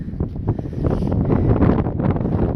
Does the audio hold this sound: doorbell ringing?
no